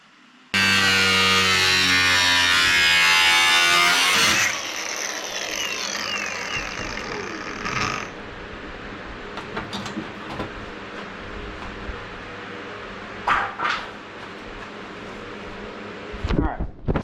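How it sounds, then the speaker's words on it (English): A cutoff wheel grinds a louver opening into a Honda S2000 metal fender, starting with a loud, piercing whine for several seconds, then a lower steady whirring and rattling as it keeps cutting, with scattered clicks and knocks. "We're gonna start with a cutoff wheel. We're just gonna cut this general shape out as much as possible"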